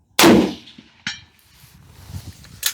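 A Ruger firearm fires beside a chronograph, opening with one loud, sharp report and a fast-fading tail, then a fainter crack about a second later and another at the very end.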